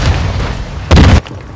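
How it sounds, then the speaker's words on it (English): A grenade blast in Call of Duty lands as a single loud, short boom that cuts off abruptly after a low rumble of game noise. "Bro, can't you throw your grenade?"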